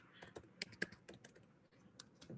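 Quiet, close keystrokes on a computer keyboard as a meeting ID is entered, irregular taps and clicks in short runs with a brief pause midway.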